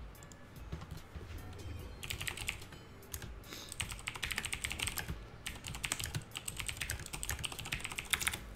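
Rapid clacking of a computer keyboard during an online game session, uneven bursts of keystrokes close to the microphone that grow busier after the first couple of seconds.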